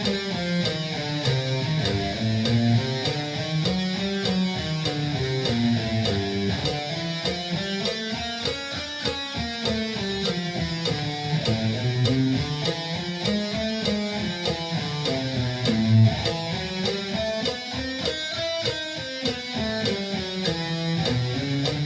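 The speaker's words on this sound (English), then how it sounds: "circle of fifths over harmonic minor sounds something like this." Guitar playing a circle of fifths sequence over the harmonic minor scale, a fast steady stream of picked notes with regular rhythm, rising and falling in repeating waves, alone and clear throughout.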